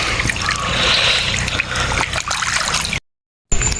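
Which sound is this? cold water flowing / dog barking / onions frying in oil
cold water flowing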